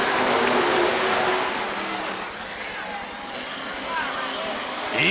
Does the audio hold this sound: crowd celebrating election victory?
no